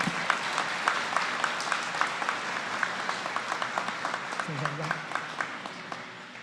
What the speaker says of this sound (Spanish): Pido un aplauso para todo el personal del TC.